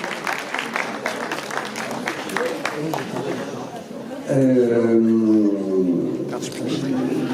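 An audience applauds at a Printemps des Poètes 2022 presentation in Vence, a crisp patter of many hands clapping, then a voice speaks over the fading applause and crowd murmur.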